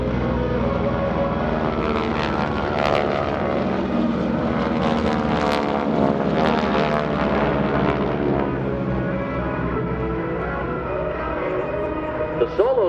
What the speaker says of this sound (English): Watch now as the 6 aircraft continue to separate and check all 6 quadrants.